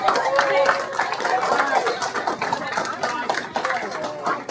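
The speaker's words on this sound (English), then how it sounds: "Give her another round of applause" An audience at a Southfield Public Schools board meeting claps in a sustained burst of applause, with voices and chatter mixed in beneath the clapping.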